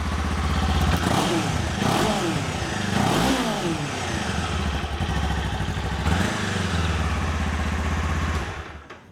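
A Kawasaki Ninja 500 motorcycle on its stock exhaust idles and revs up in a few swelling bursts, a loud, close engine drone with clattering mechanical texture throughout.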